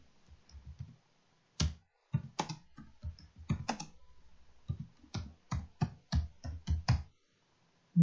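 Quiet keys clatter on a computer keyboard as text is typed into Photoshop, coming in short irregular bursts of sharp clicks with brief pauses between them; no voices.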